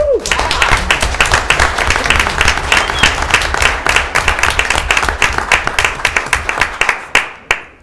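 An audience at a school board meeting applauds a wrestling coach, a loud, sustained round of clapping that thins out into a few scattered claps near the end.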